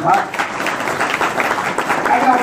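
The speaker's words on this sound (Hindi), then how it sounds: "आप अपने लिए जोरदार तालियां बजाइए" Loud, dense audience applause fills a gathering at a Hindu ashram, a steady wash of many hands with a voice carrying over it.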